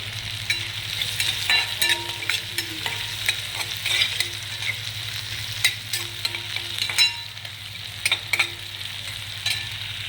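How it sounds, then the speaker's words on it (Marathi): Fried peanuts are stirred into poha seasoning in a hot pan: a steady, close sizzle with repeated scraping stir strokes throughout and no talking. "आता शेंगदाणे जे तळून घेतले होते, शेंगदाणे टाकणार आहे"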